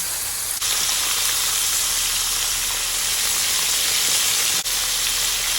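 Large battered shrimp fry steadily in hot oil, a dense, even sizzle and hiss close by. It runs continuously with two brief dips and no speech.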